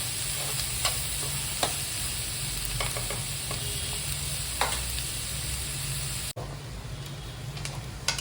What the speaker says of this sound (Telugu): కొంచెం వేగిపోయాయండి ఉల్లిపాయలు.